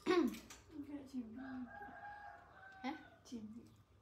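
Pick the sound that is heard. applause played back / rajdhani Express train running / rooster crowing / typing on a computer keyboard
rooster crowing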